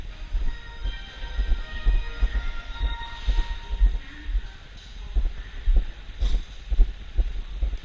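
A Beijing subway train runs with a steady low rumble and regular rhythmic wheel clacks, close and continuous, with faint squeals above it.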